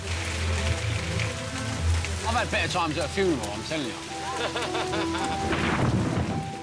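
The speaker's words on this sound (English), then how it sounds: "The tropical rain wasn't just unpleasant, it caused flash floods that could have swept the camp away." Heavy tropical rain pouring steadily during Hurricane Otto, a dense constant hiss under someone talking throughout.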